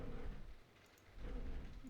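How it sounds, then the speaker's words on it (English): Rain falling in a video game, a steady soft wash of rainfall with low rumbling swells, quiet and continuous with a brief dip midway. "Can you hear the rain?"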